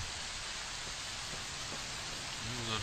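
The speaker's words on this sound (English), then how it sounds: "that rain is making me sleepy" Steady rain falling in the video game Fallout: New Vegas, an even hiss of drops that fills the short stretch at constant level with no voices.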